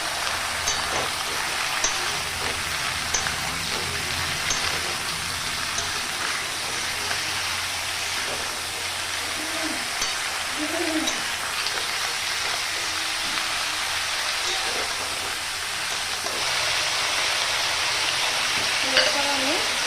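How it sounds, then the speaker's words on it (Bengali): Potatoes and onions fry in a pan, giving a steady crackling sizzle with soft stirring scrapes throughout, fairly close and even in level, with a faint voice now and then beneath it. "আলু আর পেঁয়াজটা দিয়েও আমি ভালো করে একটু ভাজবো"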